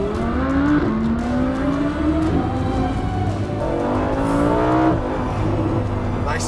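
Lamborghini sports car on the move, its engine revving up and down through gear changes with rising and falling pitch; loud and close, a continuous roar with no talking.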